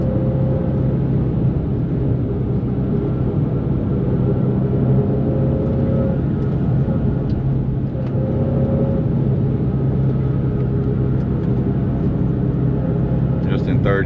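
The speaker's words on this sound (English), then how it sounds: "Just in third gear, chugging along here." A 2004 Nissan 350Z cruising in third gear gives a steady, loud low engine drone and rumble inside the cabin, holding an even pitch throughout with faint road noise.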